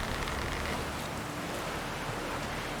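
Steady rain falling in The Witcher 3 game world, a dense even hiss of drops on surfaces, continuous and moderately loud with no voices.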